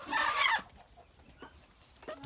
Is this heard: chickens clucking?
yes